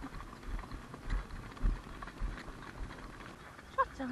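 A horse trots during a farm ride, with a muffled, rhythmic hoof beat on soft ground under wind noise and outdoor rumble, moderately close, with voices faintly in the background.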